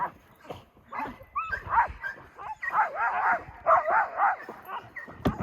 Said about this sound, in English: they don't like to stop for too long, and then they start barking